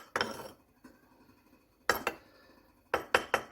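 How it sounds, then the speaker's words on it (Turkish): Yogurt mixture gently stirred in a glass jar, with a spoon clinking against the glass in scattered bursts: one early tap, a pause, a pair of knocks, then three quick clinks near the end, close and quiet. "Sonra da çok hafif bir şekilde Şöyle karıştırıyoruz"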